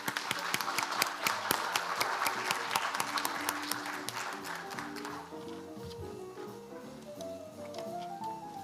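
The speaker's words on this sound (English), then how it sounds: "Please welcome her with a big round of applause." A conference audience applauds steadily to welcome a speaker at the podium, a dense wash of many hands clapping that holds for several seconds before gradually thinning out.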